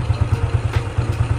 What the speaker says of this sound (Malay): beginilah keadaan punya enjin bila kita pakai tabung Y suku ataupun Y 15ZR.